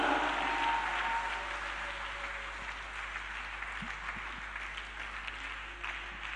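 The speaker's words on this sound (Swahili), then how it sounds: "mpe Yesu makofi mengi mengi na vigelegele" A church congregation bursts into applause, loud clapping at first that gradually thins and fades into scattered claps over several seconds.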